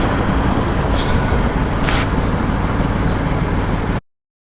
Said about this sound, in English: Hopefully you can hear me over the car running.